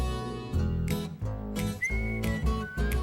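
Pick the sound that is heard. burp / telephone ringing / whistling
whistling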